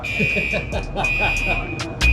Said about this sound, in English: So fire alarm turned on and the fire department's on the way.